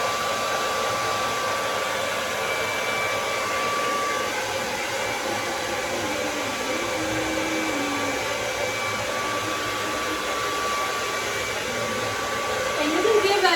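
A hair dryer dries paint on a handmade craft tree, blowing in a steady, close whirring roar with a thin whine that holds evenly throughout.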